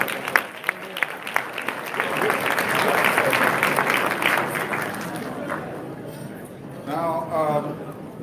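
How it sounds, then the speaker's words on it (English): An audience at a 2019 Pittsburgh awards ceremony honoring men of excellence breaks into a sustained round of applause that swells and then fades, with a voice speaking over the tail end. "Give them another round of applause."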